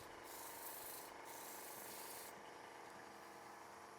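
Hand sanding with 180 grit sandpaper while making ring stands produces a soft, steady scratchy rubbing with back-and-forth strokes, faint and close.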